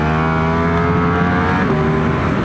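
A 2025 BMW S1000RR motorcycle engine under throttle on a track, with a loud, steady, high-revving roar and a slight pitch shift partway through.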